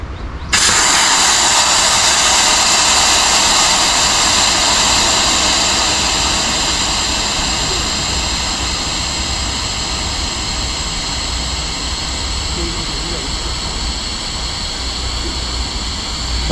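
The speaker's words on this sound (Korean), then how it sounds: "이제는 누워서 일단 바람 좀 빼겠습니다" Air hisses steadily out of an air mattress as a person lies on it, a loud, close, continuous rushing that starts abruptly and holds for about sixteen seconds with no other sounds.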